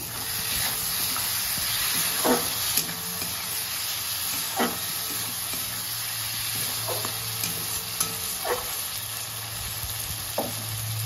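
Okra for bhindi masala stirred in a frying pan: a steady sizzle and hiss with several sharp spoon-against-pan scrapes spaced a second or two apart, close and moderately loud, no voices.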